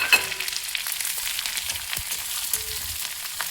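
Long-sliced onions dropped into hot oil in a pan for egg thokku, sizzling and spitting steadily up close, with a few faint clinks and stirring touches and no talking.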